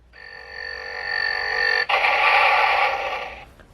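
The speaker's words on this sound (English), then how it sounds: "sort of large blast sound." Power Rangers Time Force Chrono Blaster toy fires its large blast effect: a buzzing electronic charge-up tone breaks into a louder noisy burst that fades after a couple of seconds, heard close.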